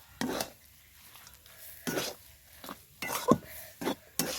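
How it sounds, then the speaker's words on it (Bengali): Cabbage pakora batter with salt being mixed together in a bowl: irregular soft scrapes and sharp clinks from utensil against dish, close and fairly quiet, with short pauses between strokes. "দিয়ে সব কটা উপকরণ এবার একসাথে মাখিয়ে নেব।"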